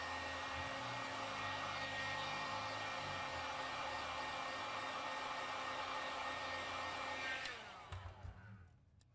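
A heat gun or hair dryer blows steadily and loudly on the screen of a 12.9-inch third-generation iPad Pro A1876, a continuous airy whoosh with a motor hum that cuts off near the end.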